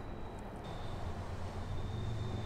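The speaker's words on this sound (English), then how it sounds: "ironically there's a train going by." A train rolling past a scrapyard of burnt cars near a highway, a steady low rumble heard at a distance with no talk over it.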